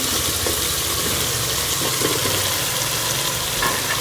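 Tinda (apple gourd) frying with masala and chicken in ghee, giving a steady, loud, dense sizzle with faint stirring scrapes and no voices.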